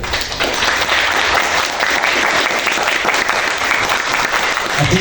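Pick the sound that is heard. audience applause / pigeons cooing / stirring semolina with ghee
audience applause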